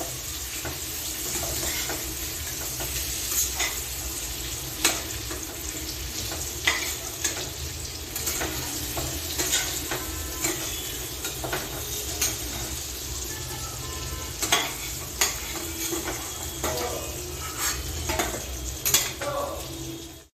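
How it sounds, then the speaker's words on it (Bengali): Paneer frying in hot oil in a home kitchen, giving a steady loud sizzle with scattered scrapes and clinks of a spatula stirring in the pan throughout. "দেখো পনিরটা আমার ভাজা হয়ে গেছে"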